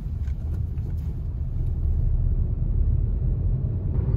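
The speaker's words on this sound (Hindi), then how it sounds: "उस साइड से भी गाड़ी आ रही है" A car approaches along a rural road from the opposite direction, a low engine rumble growing steadily louder and nearer, heard from inside a moving vehicle with no talk.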